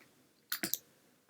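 A quick cluster of sharp clicks from a mouse on a Mac, close and crisp against a quiet room.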